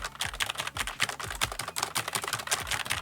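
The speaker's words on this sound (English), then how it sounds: "So here is the MX Mechanical from Logitech. I'm just gonna type gibberish." A Logitech MX Mechanical keyboard is typed on quickly and continuously, producing a dense stream of crisp, close clacks with a steady, uneven rhythm and no talking.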